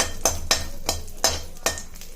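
Garlic, cumin and black pepper dry-roast in a pan for peanut rice while a spoon scrapes and knocks against the pan in a steady rhythm roughly every half second, close and fairly loud.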